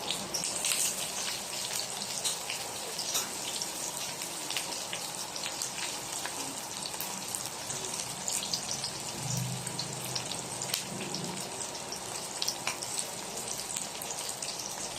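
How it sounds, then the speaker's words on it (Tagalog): Aromatics sauté in a hot pan, making a continuous, fairly quiet hiss and crackle, close and steady, with no talking. "Patuloy lang natin itong igisa hanggang sa lumabas na lahat ang kanilang aroma."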